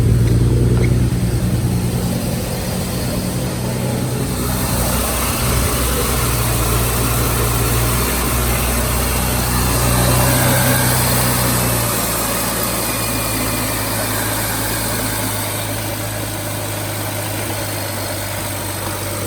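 A rebuilt BMW E92 335i engine idles after its first startup, a loud, steady low hum with a slight rise and fall in level, close and alone without voices.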